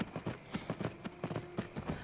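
Horse hooves clop in Skyrim VR, a quick rhythmic run of soft, fairly quiet thuds at a trotting pace, heard without speech.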